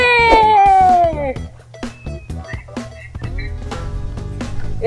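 A new pet cat meows loudly at first in a drawn-out, falling call, followed by several shorter, quieter meows, with a voice talking over the later part.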